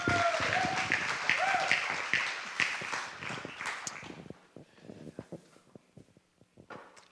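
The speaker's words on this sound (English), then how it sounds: "Please give a warm round of applause for Fiel Sahir." A conference audience at a language festival applauds a presenter with dense, lively clapping that thins after about four seconds into scattered last claps.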